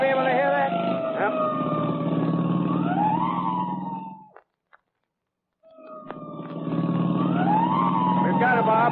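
A police car siren in an old-time radio drama wails loud and close with rising and falling sweeps, cuts out completely for about a second, then returns at full strength.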